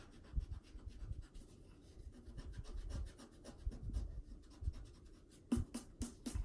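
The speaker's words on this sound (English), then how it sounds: "We're going to erase the lines right here that connect the ears." Pencil eraser rubbing across paper to remove drawn lines on a Pikachu sketch, a soft, uneven scrubbing rasp in short repeated strokes, close and fairly quiet, with a few sharper taps near the end.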